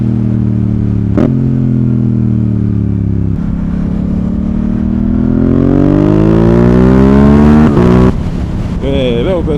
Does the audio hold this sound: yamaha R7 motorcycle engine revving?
yes